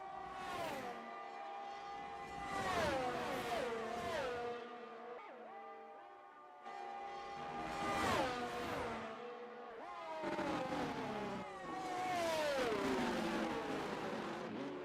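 F1 race cars scream down a straight at the Belgian Grand Prix in a racing game, several passes of high-pitched engines rising and falling as they shift gears and sweep by.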